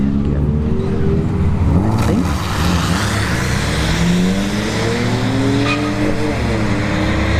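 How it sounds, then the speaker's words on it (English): A BMW 3 Series and a Nissan Sentra launch side by side down a dragstrip, engines droning loud and steady with rising and falling rev tones and a brief tire chirp, all under continuous crowd and track noise. "3 Series Beamer, right lane. Nissan Sentra, left lane."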